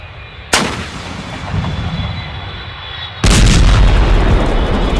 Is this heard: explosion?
yes